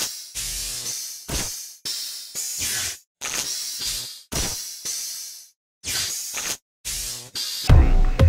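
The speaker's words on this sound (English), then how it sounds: "I use the engine sound as a hi-hat" Among Us engine sound effect repurposed as a hi-hat in a theme song, heard as a series of hissy, sprayed bursts in a loose rhythm with short gaps, ending in a louder, fuller hit.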